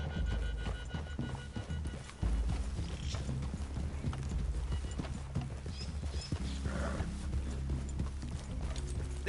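Horses walk steadily in the Red Dead Redemption 2 video game, their hooves clip-clopping in a continuous, close rhythm alongside creaking tack and low rumbling ambience throughout.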